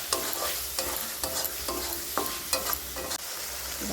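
Spices for a spicy boal fish curry sizzle in hot oil as a spoon stirs and scrapes the pan in steady, repeated strokes, close and clear with no talking.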